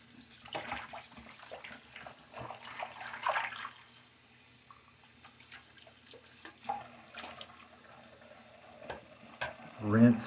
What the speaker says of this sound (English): Rinse my razor out here, loosen it up, set it aside somewhere safe